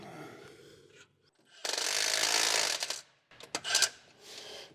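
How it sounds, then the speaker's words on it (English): A ratchet turns a bolt into a cast part on a 1968 Dodge R/T while the threads strip and pull out, giving loud bursts of clicking and grinding with pauses between them. "Well, those are definitely threads pulling out."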